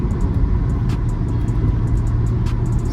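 A supercharged Mercedes C32 AMG engine drones steadily while the car is driven, a loud continuous low rumble with road noise and no speech.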